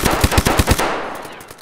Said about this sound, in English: Yep, somebody's shooting at me.